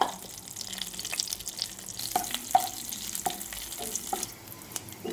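Bay leaves, cinnamon, cloves and cardamom frying in a pan for mutton biryani, a soft steady sizzle with several light clicks and taps of whole spices shifting, heard alone.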